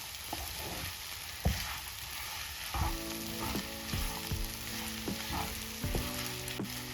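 Beef roast masala sizzles and frys in a pan, with repeated scraping stirs of a spoon through the thick masala at an irregular rhythm, close and moderately loud, with no talking.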